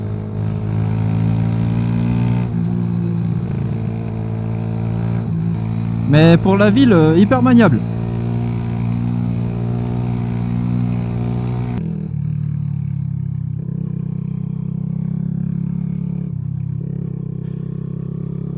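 A Mash Black Seven 125cc neo-retro motorcycle engine hums steadily while being ridden through town, a rider talking over it throughout, the tone shifting lower near the end.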